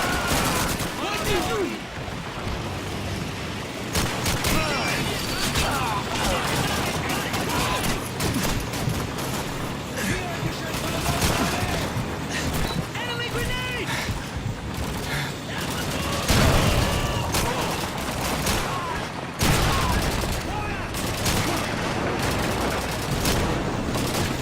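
Sustained automatic gunfire from an M60 machine gun in Call of Duty 2, dense rapid bursts layered with other battlefield shots and booms, loud and continuous throughout with brief dips in intensity.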